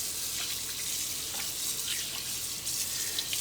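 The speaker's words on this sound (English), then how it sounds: "I'm going to quickly wash off my hands so that I can do the next part" Tap water runs steadily into a kitchen sink while hands are washed during bread making, a close, loud hiss with soft splashes throughout.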